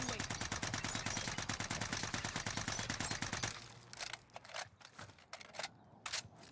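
Rapid automatic fire from a C58 rifle in a shooter game with an anti-recoil mod, a dense, even burst of shots for about three and a half seconds, then a few scattered single shots and clicks afterward.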